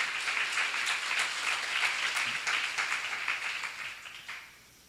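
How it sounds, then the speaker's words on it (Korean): A church congregation applauds during a Bible seminar, with steady, dense clapping that carries on for several seconds and then tapers off quickly at the end. "박수야."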